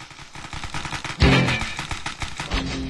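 Paintball guns fire in rapid bursts in the Xbox 360 game Greg Hastings Paintball 2, a dense rattle of shots with one heavier burst about midway and no voices.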